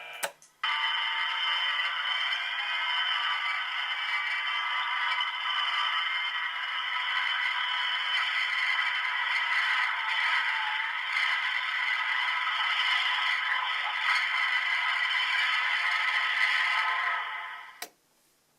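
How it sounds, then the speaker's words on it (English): Time-travel sound effect from a Bruce Coulombe Limited Edition Back to the Future flux capacitor prop: a steady, loud electronic hiss and whir with faint crackle, running unbroken for about seventeen seconds, then cutting off. "you have to suffer through 15 seconds of time travel noise, and that's pretty much what it is"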